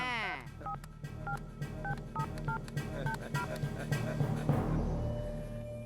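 A telephone number is keyed in as a quick run of distinct DTMF tones in uneven rhythm over a low background, close and clear, with someone speaking underneath.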